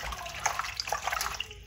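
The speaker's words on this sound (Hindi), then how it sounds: "यहाँ पे करेले इनको धोएंगे।" Bitter gourds (karela) washed by hand in a bowl of water, short splashing and sloshing bursts close up, without talk.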